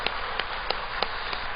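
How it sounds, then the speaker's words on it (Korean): A church congregation claps together in thanks during a Sunday worship service, a steady wash of many hands with evenly spaced stronger beats about every third of a second. "우리 같이 한번 감사하며 우리 박수 한번 하겠습니다"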